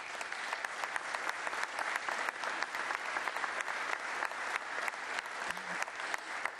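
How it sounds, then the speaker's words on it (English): Audience at a State of the State address breaking into sustained applause, a dense, even wash of clapping from many hands across a large room, with no talk over it. "You may want to hold your applause until they're all standing."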